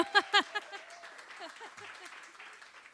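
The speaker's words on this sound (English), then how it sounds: "Please give him a hand of applause." Audience applause at a small live music performance, a modest patter of clapping that starts fairly strong with a few cheers, then thins out and fades.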